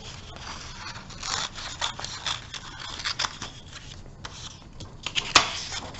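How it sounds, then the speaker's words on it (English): Scissors cut a small piece out of a large sheet of paper for a collage, a series of crisp snips and papery rustles close by with no speech. "cut that little piece out of the big paper"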